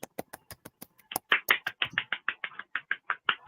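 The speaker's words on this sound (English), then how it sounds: "That's hand clapping" A run of sharp hand claps, first light and quick, then louder and steadier, about a dozen more close-up claps keeping an even beat, like an improvised drum roll.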